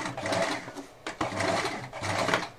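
Fast mechanical whirring bursts of a sewing machine making a backstitch on a washable cloth wipe, with short pauses between runs of stitching.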